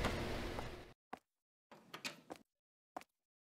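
A door opens in the horror video game The Bathhouse, starting with a rushing noise that cuts off abruptly, then several short clunks and creaks with silence between them.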